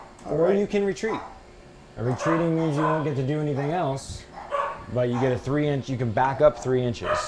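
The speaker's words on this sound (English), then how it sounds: "excuse the dogs everyone" Dogs bark indoors in several short, loud runs of harmonic yelps while someone talks through the game rules over them.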